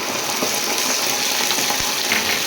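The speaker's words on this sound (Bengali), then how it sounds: "চারদিকে তেল ছিটকাচ্ছে" Chicken frying in oil with chilli, tomato and soy sauces just poured in for dry chilli chicken, giving a loud, dense, continuous sizzle with oil spattering and occasional stirring knocks, close up, with no talking.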